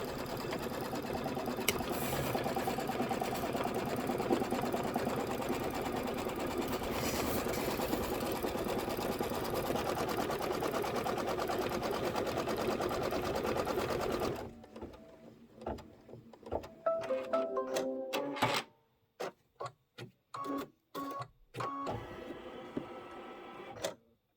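An embroidery machine stitching out quilting runs with a steady, loud mechanical whir and rapid needle chatter, then stops and gives way to scattered clicks, taps and short machine bursts.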